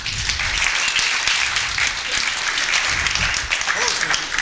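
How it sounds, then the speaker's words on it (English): A live audience at a mind-reading show in Las Vegas bursts into loud, sustained applause, a dense wash of clapping with some cheering that holds steady throughout. "give him a big round of applause"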